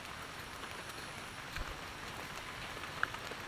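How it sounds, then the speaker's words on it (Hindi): Steady rain falling on a village road, a constant soft hiss of drops on the surface throughout, fairly faint and even with no voices. "इतना बारिश।"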